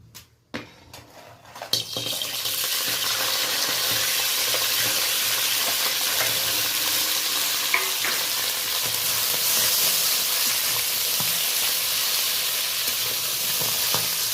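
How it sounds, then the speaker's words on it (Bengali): Crabs, medium-sized, frying in mustard oil in a wok give a loud, steady sizzle that starts after a few seconds of quiet clatter and holds evenly throughout, with occasional faint stirring clicks. "কাঁকড়াগুলো একটু ভেজে নেব।"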